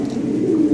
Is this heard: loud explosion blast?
no